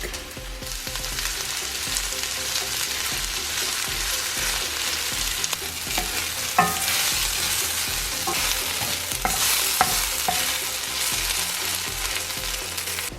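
Onion, ginger and garlic fry in two tablespoons of cooking oil in a pan, giving a steady, close sizzle with occasional scraping stirs and light clinks throughout, no voices.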